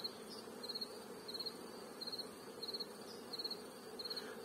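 Honeybees flying out of their hives to forage, a steady buzzing drone with short recurring whines of individual bees passing close by, quiet and outdoors, no voices.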